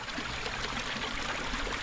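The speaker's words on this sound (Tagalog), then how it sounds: "Ang ganda ng agas-as ng tubig." A stream of water flows past rice fields near Mount Banahaw, a steady, fairly close rushing and trickling wash with no voices.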